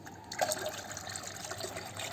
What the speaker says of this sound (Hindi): अब इसमें मैं इतना ही पानी मिला दूंगी। पानी मिला रही हूँ